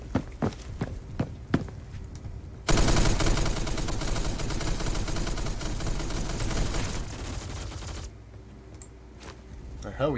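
Gunfire in Roblox Phantom Forces: a few sharp separate shots and footsteps, then a dense, loud sustained volley for about five seconds before it cuts back to scattered quieter sounds.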